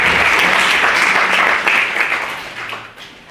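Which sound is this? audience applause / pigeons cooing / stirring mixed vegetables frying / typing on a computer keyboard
audience applause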